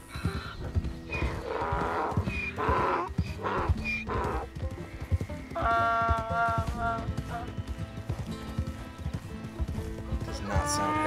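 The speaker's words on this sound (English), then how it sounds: "This might be a mule." A mule braying in the video game Red Dead Redemption 2, loud harsh repeated honking calls with strained tonal bursts, heard alongside someone talking and background game sounds.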